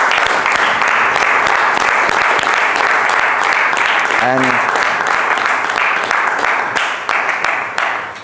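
Dense, loud applause from a Toastmasters meeting audience in Rwanda honoring a speaker, sustained clapping with a brief voice over it midway before it tapers off at the end.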